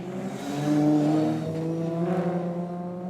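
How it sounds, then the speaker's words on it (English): A drift car at a D1NZ drift series round at Mt Smart Stadium revs hard on the handbrake, its engine note climbing and holding in a loud, continuous roar without speech. "On the handbrake, getting the revs to rise."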